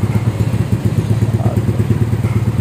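A Honda Vario scooter fitted with an SKR racing exhaust runs close and loud at idle, its rapid even pulsing throb filling the short stretch without pause.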